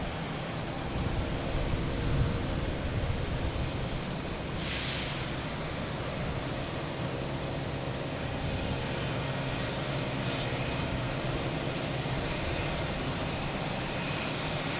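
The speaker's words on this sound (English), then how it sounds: "We got a JetBlue coming into the alley here." A JetBlue airliner arrives at Boston Logan Airport, its engine roar a loud, steady broadband rumble heard from nearby, holding constant throughout.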